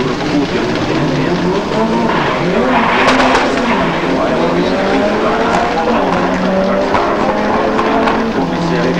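Toyota Celica rally car with a turbocharged 1968 cc engine roaring away from the start line, a loud, steady engine howl with rising pitch over constant gravel and tyre noise throughout.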